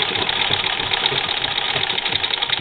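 A treadle sewing machine stitching through two layers of bulky sweater fabric, running in a steady, close mechanical chatter with a fast, even rhythm and no voices.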